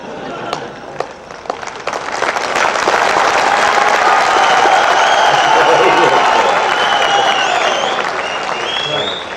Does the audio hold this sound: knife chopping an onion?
no